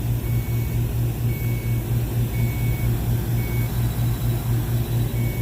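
Electronic refrigerant leak detector chirping in short, evenly spaced beeps over a steady low mechanical hum, with the beeps faint against the background drone.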